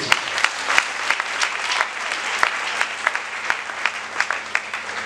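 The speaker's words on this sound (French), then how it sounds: "Si vous comprenez ça, acclamez ça." A church congregation bursts into applause during a sermon, with dense, steady clapping from many hands filling the room and a few sharper claps standing out, no voice over it.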